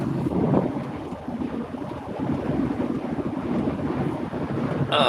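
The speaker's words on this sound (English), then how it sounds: "The wind is like crazy blowing right now." Loud, continuous wind roar and microphone buffeting around a moving car on a gusty day, a dense rushing noise that swells and dips without pause.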